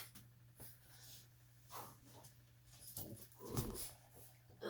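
A pet dog close by breathing and snuffling, with faint whimpers in quiet indoor surroundings, soft and intermittent.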